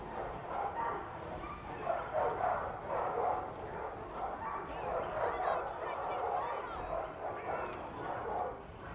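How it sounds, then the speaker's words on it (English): Barking war dogs in the Total War: Arena battle game, a busy clamor of yips and bow-wows over continuous battle noise, with some talk mixed in. "I'm just gonna send out my dogs."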